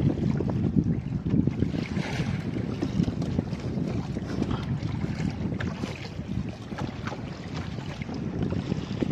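Strong wind gusting over a river around a small fishing boat, roaring steadily and buffeting the microphone throughout, with faint water movement beneath and no talk.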